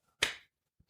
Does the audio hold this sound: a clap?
yes